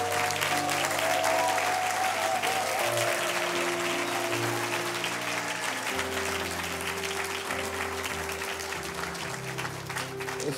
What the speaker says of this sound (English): Do you mind all standing and giving them an applause? Let's stand, a standing ovation.